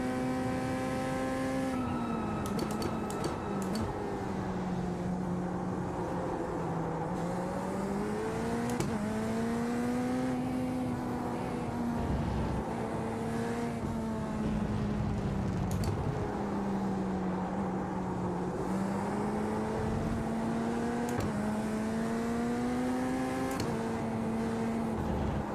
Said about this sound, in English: Let's see if we can hold full throttle on that corner this time.